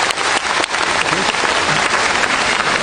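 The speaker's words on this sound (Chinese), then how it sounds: "我们把掌声送给他们" An audience at a concert gives sustained, dense applause, a loud steady wash of clapping heard up close for a few seconds with no break.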